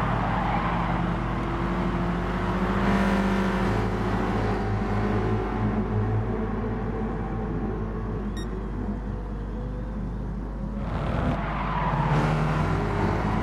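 Race cars roar around the Catalunya circuit in the video game GT Sport, several engines droning together with shifting pitch as the pack runs close.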